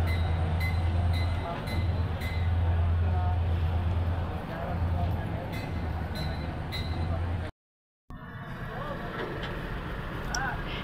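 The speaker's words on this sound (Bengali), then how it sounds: "আমরা দেখতে পাচ্ছি পাশের লাইনে একটা ট্রেন যাচ্ছে" A train runs past on the neighbouring track beside a derailed intercity express, a steady low rumble with rhythmic wheel clatter that stays loud and close, cut by a brief gap before the noise resumes a little rougher.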